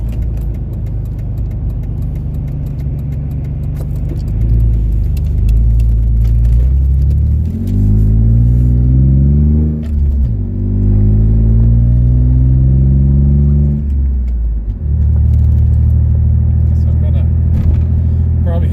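A car with a worn exhaust driving on a wet, rainy road, a steady low engine rumble with rising and falling revs as it accelerates and shifts, loud and close throughout.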